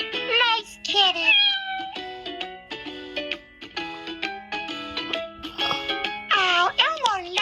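Repeated meowing from a cat, several drawn-out mews in a row, close and clear, with brief gaps between calls.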